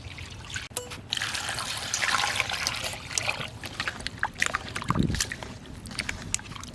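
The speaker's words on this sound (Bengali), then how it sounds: "এবার জল দিয়ে দিচ্ছি" Water trickles and pours into a bowl of finely mashed boiled masoor lentils for a thin dal, a steady wet splashing and dribbling that runs the whole time, close and moderately loud.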